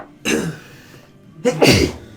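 Two sneezes in a row: the first is loud and close, and after a brief pause a second comes, slightly louder, with no talk.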